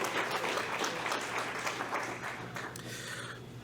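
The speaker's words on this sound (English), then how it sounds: "And so can we give another round of applause for Mary?" Audience applause at an awards ceremony, a dense wash of clapping from a fairly large crowd that holds steady and then starts to thin near the end, with a low hum underneath.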